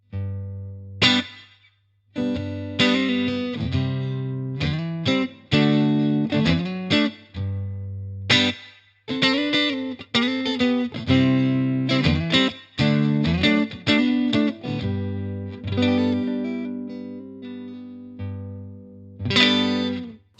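A Vintage V6H Silverburst electric guitar played on its neck single-coil pickup with a clean tone, ringing chords and picked notes with a bright chorus-like shimmer, loud and close, sustained phrases separated by short pauses.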